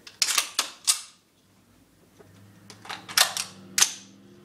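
A Viper Tech airsoft pistol with a CO2 magazine fires semi-auto outdoors toward trees: sharp, loud cracks close by, four quick shots, a pause, then three more.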